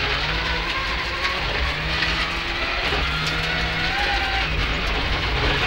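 A rally car in the Colin McRae racing game holds a power oversteer slide through a corner, with a steady, dense engine roar and tyre noise that runs without a break.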